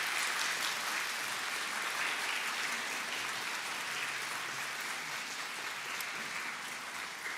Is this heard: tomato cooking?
no